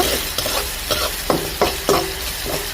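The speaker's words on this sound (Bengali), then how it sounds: "এখন দিয়ে দেবো রসুন আর পেঁয়াজ কুচি, হালকা একটু ভেজে নিব" Chopped garlic and onion fry in a hot pan with a constant sizzle, while a spatula scrapes and stirs in regular strokes about every half second, close and fairly loud.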